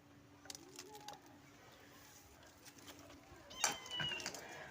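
A kitten gives a short meow near the end, following a quiet stretch of faint background rustle and soft distant sounds.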